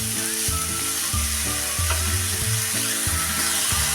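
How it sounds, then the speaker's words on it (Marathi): Finely chopped coriander leaves sauté in hot oil with spices for a crispy snack, a strong close sizzle overlaid by repeated rhythmic scraping strokes of a spatula against the pan, no voices. "कोथिंबीर पण त्या तेलात आणि मसाल्यामध्ये आपण थोडा वेळ परतून घेऊया"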